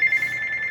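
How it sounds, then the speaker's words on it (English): A phone rings partway through a talk, giving off a steady, bright electronic ring tone that sounds continuously for under a second with no talking over it. "Excuse me, I'm sorry, my phone's ringing."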